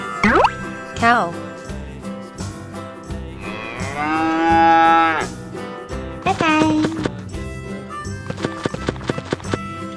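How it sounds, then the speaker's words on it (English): A cow gives one long, loud, close moo in the middle of a children's farm-animal sounds lesson, between bursts of playful music, hoof-like clopping and brief effects. "Cow."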